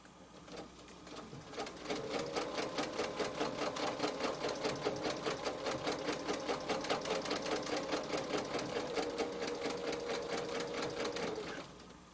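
A sewing machine stitches a quilted heart design along a template on a quilt sandwich for a pillow, running in a steady, rapid rhythm for about ten seconds close to the mic before stopping.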